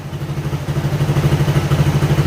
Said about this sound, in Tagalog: tumimik na rin yung kanyang makina, ibang iba na